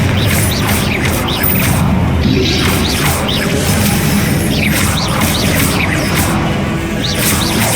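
Combat sounds from the Hogwarts Legacy video game during a boss battle as the Confringo explosion spell is cast: a dense, continuous wash of crashes, whooshes and impacts, loud and sustained throughout with no voices.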